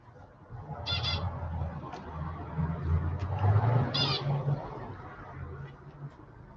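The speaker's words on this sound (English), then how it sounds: "My birds are having fun." Pet birds calling indoors, a couple of short sharp squawks and chirps spaced a few seconds apart, moderately close, over a low steady background hum.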